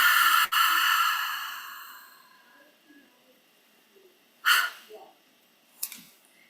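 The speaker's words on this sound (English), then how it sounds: "Together, let's take a deep breath in. Then open the mouth and breathe out that air." A guided meditation breath, heard alone: a long, airy exhale through the open mouth fades out over about two seconds, followed by quiet pauses and two soft, brief breathy puffs.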